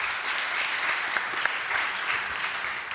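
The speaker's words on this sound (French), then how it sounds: "Vous pouvez les applaudir" An audience applauds a student panel, a moderate, continuous patter of many hands clapping with a couple of sharper claps, steady throughout.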